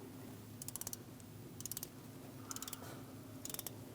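A ratchet turns a new spark plug into a 2001-2006 Chevrolet Silverado 2500 HD's 8.1L V8. Four short bursts of quick metallic clicking come at regular intervals over a steady low hum.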